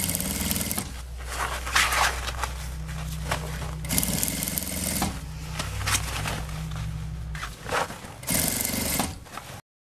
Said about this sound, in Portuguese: A gente vai virando a bolsa e vai costurando, deixando o forrinho todo pra dentro.